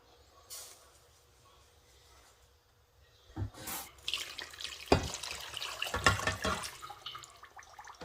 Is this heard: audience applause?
no